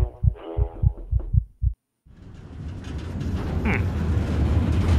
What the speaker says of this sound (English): why is my heart beating like this?